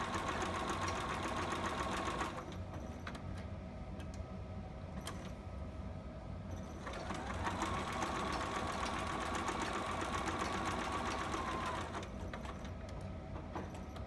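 A sewing machine stitches fabric for a two-piece sitter outfit, its presser foot set a little too hard so the cloth puckers. A quiet, steady run of stitching stops for a few seconds, resumes for a long stretch, then pauses again.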